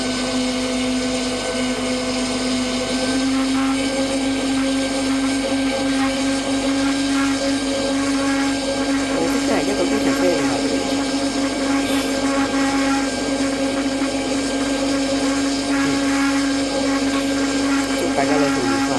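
An airplane taxis toward the runway in a Roblox flight simulator game, its engine a loud steady tonal whine and hum that continues unbroken throughout.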